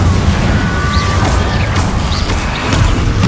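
An Incendio fire spell is cast in the video game Hogwarts Legacy, a loud, continuous roaring whoosh with rumbling low end and faint whistling streaks during the combat.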